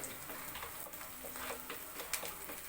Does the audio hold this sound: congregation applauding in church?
no